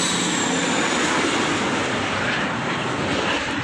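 An aircraft flying near Tambaram air force station makes a continuous broad roar that holds steady and fairly loud throughout, with no speech over it.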